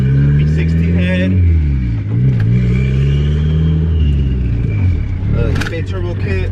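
Turbocharged B20V Honda Integra with a B20 block and B16 head pulling hard on a street, the engine note climbing through gears in repeated rising sweeps, loud and close throughout.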